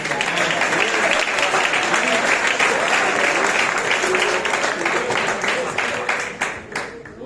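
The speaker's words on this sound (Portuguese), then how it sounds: "Você pode recebê-lo com aplauso." A church congregation breaks into loud, dense applause to welcome a deacon about to sing, a sustained wash of many hands clapping that fades toward the end, with some voices mixed in.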